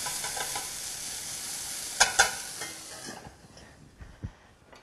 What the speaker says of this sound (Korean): 피망 잘게 다진 거 넣어주시고 한 몇 초만 살짝 볶아주시면 됩니다